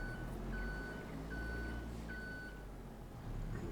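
A forklift in Farming Simulator 22 gives off a steady series of evenly spaced reversing beeps, clear but moderate, over a low continuous engine hum.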